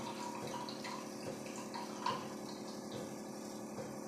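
Water runs steadily from the post-carbon outlet of a copper RO water purifier. It makes a continuous, even trickle at close range with no voices.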